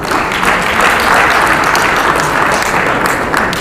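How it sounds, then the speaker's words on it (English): A round of applause from the audience at an annual Court of Appeal justices' conference, dense, steady clapping filling the room without a break, fairly loud and close. "Can we please give him a round of applause?"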